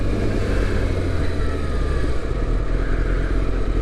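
A Yamaha Thundercat motorcycle engine runs loud and steady on the road, a continuous droning rumble with wind noise and no clear rise or fall in revs.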